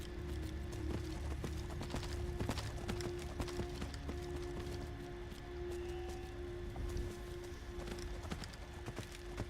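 Steady clip-clop of a horse's hooves at a quick gallop in the video game Skyrim, continuous and fairly close, over a constant low rumble and hum.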